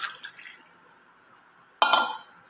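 A moringa and curry leaf health drink mixed with honey is poured between two tumblers to cool it: faint drips and trickles at first, then a short, louder splashing pour from close by.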